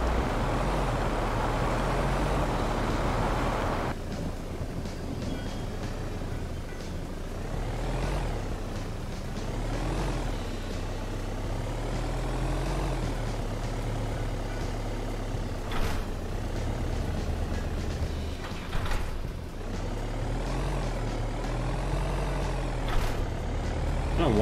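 A vehicle driven in the Junkyard Simulator game gives a continuous low engine drone throughout, with shifting revs and occasional mechanical clunks, fairly loud and steady, and a voice talking over part of it.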